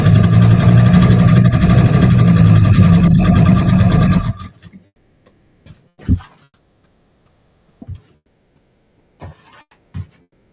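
A sewing machine stitches fabric in a loud, steady whir for about four seconds, then stops, followed by a few scattered faint clicks and taps.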